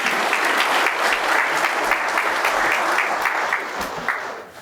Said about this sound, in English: So a round of applause would be appropriate for Mr. Wynn.